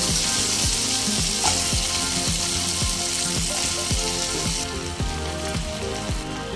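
Chopped bottle gourd (lau) tumbling into frying masala for a Bengali lau chingri curry, giving a loud, steady sizzle with regular stirring scrapes throughout, no voices.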